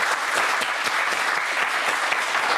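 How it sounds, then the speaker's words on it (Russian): Steady, dense applause from a studio audience at a television talk show, loud and continuous with no pauses. "Здесь должны быть отдельные аплодисменты."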